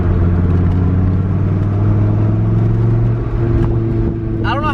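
A 2002 Dodge Viper's engine drones steadily from inside the cabin, loud and continuous, pitch shifting slightly as the throttle changes, with someone talking over it.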